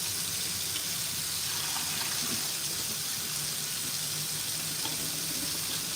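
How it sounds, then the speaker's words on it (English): Cool tap water runs steadily into a sink while raw chicken is rinsed for adobo, a continuous close hiss with no talking. "And I like to just rinse with cool water."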